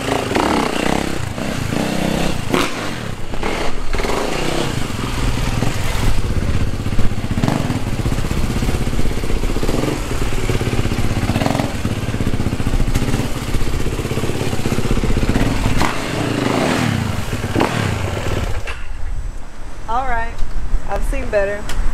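Motorcycle engine revving hard during a wheelie, a loud continuous buzzing drone with rising and falling pitch under loud talk, ending in a quieter stretch with a whining tone.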